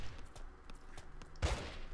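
Gunfire in the blocky online shooter Brick-Force. A single sharp, loud burst lands near the middle, with faint scattered shots and rumbling game ambience around it.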